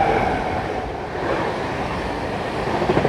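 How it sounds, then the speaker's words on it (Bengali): A steady, loud rushing rumble of the Howrah Rajdhani Express running past at about 130 km/h, continuous throughout with no voices. "এখান থেকে বেরিয়ে যাবে রাজধানী, হাওড়া রাজধানী"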